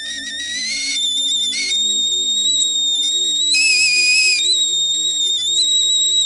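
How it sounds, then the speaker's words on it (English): A steam kettle on a gas stove whistles shrilly and steadily as steam forces out through the lid, the pitch rising and wavering over several seconds with brief jumps to a higher tone. "The steam is forced out through the lid, releasing a high-pitched whistle"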